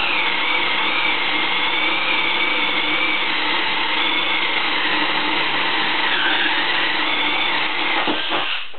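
Milwaukee 2601 compact drill on a 1.5 amp hour battery boring holes, a loud continuous whirring motor close by with slight pitch dips under load, ending with brief clicks.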